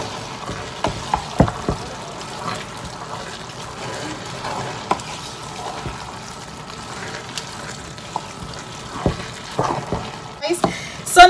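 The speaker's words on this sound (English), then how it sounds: "adding my sliced tomato and my sliced onions. So I'll be stirring this with it." Sliced tomato and onions frying for Nigerian concoction rice, a low crackle with scattered clinks and scrapes of a spoon stirring the pan, close up and fairly quiet.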